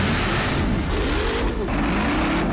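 A Hellcat engine in a project car revs hard and loud, a steady throaty roar with rising and falling pitch sweeps close to the mic, no talking over it.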